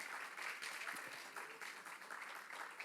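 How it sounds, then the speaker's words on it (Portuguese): A church congregation applauds, a soft, somewhat distant wash of clapping that carries on steadily with faint voices mixed in. "Pode aplaudir Jesus, tremendo esse texto mesmo."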